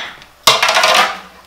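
A metal cookie sheet placed into an oven beneath a dish lands with a single sharp metallic clatter that rings and rattles briefly before fading, close and fairly loud.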